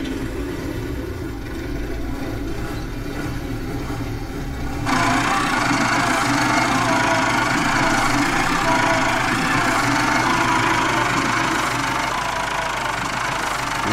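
An IMT 577 deluxe four-wheel-drive tractor engine in Farming Simulator 19 runs with a steady knocking idle that grows louder and rougher partway through, continuous and near.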